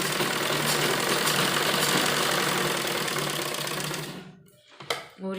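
A sewing machine runs steadily stitching a straight seam on a sleeve, a dense continuous whir for about four seconds that then stops, leaving a few faint handling knocks.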